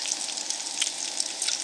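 Food sizzles in an old, re-seasoned cast iron frying pan at a campsite in Kananaskis, with a steady, soft crackling hiss close by and no voices.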